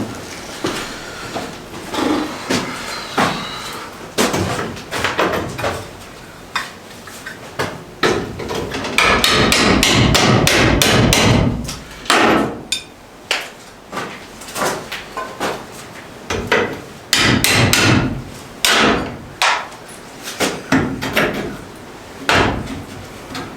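An old window is torn out of a 100-year-old rock cabin with loud, close blows that come in rhythmic clusters, together with rattling and scraping of wood and glass between the strikes.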